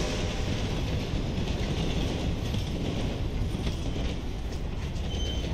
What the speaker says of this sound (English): Another train, better run on my horse.